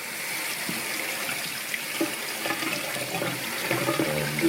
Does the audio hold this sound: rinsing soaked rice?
yes